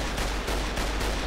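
A single gunshot from the game Fallout New Vegas, with a loud, dense blast that fills the short moment, close and without any voice.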